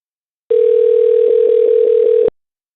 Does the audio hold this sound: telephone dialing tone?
yes